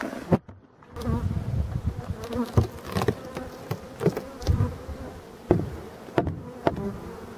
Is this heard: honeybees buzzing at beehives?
yes